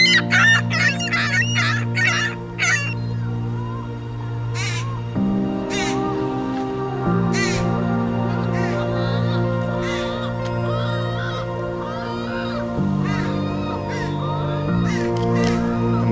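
Several neighbouring roosters crow loudly again and again, with shorter cawing calls of crows mixed in. The calls are fairly close and ring out over a low, steady musical drone.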